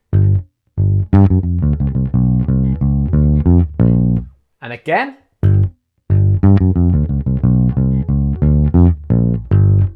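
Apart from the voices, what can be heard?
bass guitar playing blues fill with chromatics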